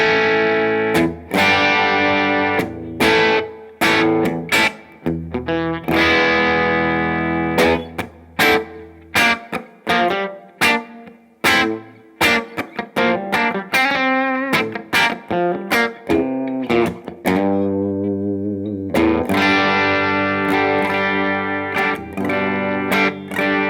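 Electric guitar on the bridge humbucker through an Iridium amp in its Marshall-like punch setting with a 4x12 cab sound and heavy reverb; crunchy distorted chords and riffs played alone, with rhythmic stabs and sustained ringing notes.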